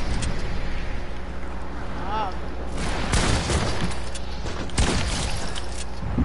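Gunfire in a multiplayer shooter video game, heard as bursts of shots and impacts within dense game noise. A player talks over much of it.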